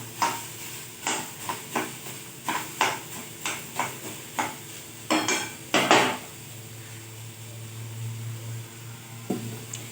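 Onion cooking in a pan with salt, stirred with a metal spoon: a dozen close, rhythmic scraping clinks against the pan over a faint low sizzle, with a gentle hum underneath.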